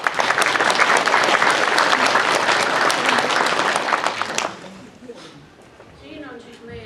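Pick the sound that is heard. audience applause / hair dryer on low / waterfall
audience applause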